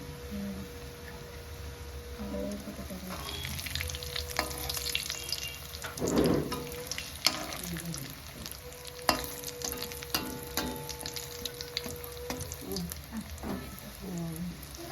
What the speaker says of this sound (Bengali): এই যে তেলে ছেড়েও দিয়েছে